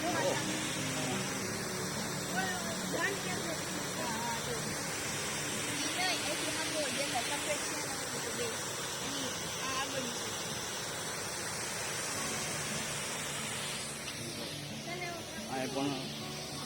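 A river beside the Ramnath Mahadev temple rushes and gurgles in a steady, loud broadband wash that continues without a break, with people talking over it.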